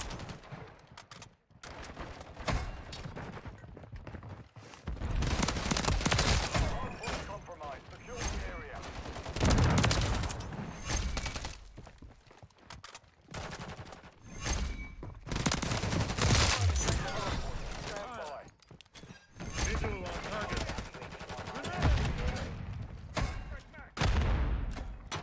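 Rapid automatic gunfire in a Modern Warfare 3 firefight, dense bursts of shots from an SVA 545 rifle and other weapons, loud and near, with a player's voice talking throughout.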